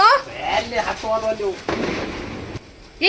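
Diwali firecrackers go off outdoors, with a couple of sharp bursts cutting in amid voices talking nearby.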